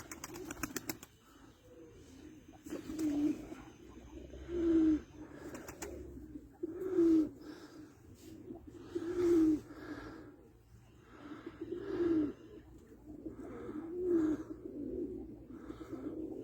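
Newly bought tumbler pigeons, blue, white and Arab, coo quietly in a coop: six soft, evenly spaced coos over about sixteen seconds against a faint background, with no talking.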